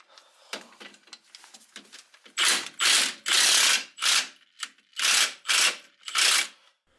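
Ratchet wrench loosening the lower control arm bolts on a vehicle's rear axle, heard as seven loud, close bursts of rapid clicking in a steady rhythm after a few softer, scattered mechanical clicks.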